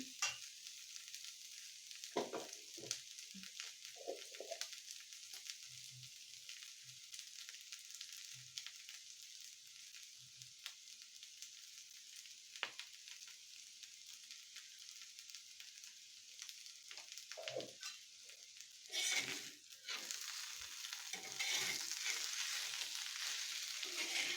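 Spiced potatoes with salt are stirred and fried in a pan, a steady soft sizzle running throughout with scattered scraping and clinking of the spoon, growing a little louder near the end.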